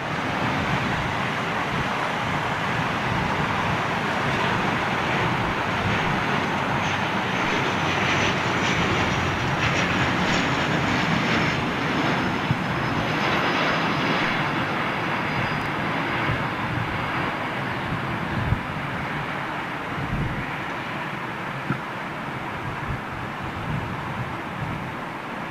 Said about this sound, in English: Flyby.